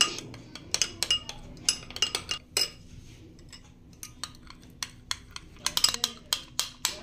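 Metal spoon clinking and scraping against a bowl while hair mask ingredients are stirred together, a run of quick sharp taps in irregular clusters, close and fairly clear.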